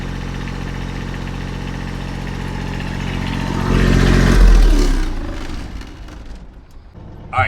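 A flatbed semi truck's diesel engine idles with a steady low rumble through a muffler with a small hole, swelling louder briefly midway and then easing off into quieter running.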